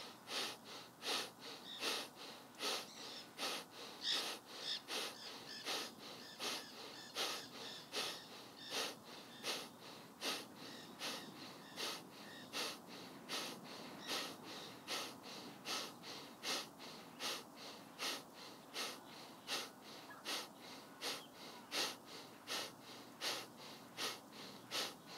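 Energising pranayama breathwork: a steady train of quick, forceful nasal breaths pulsing rhythmically for the whole stretch, close and fairly loud, with no talking.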